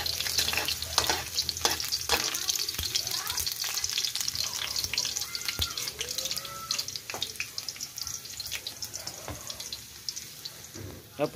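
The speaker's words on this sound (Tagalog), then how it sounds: "gigisa muna tayo ng bawang" Garlic sautés in a pan with a steady, moderate sizzle, broken by scattered clicks and scrapes of stirring throughout.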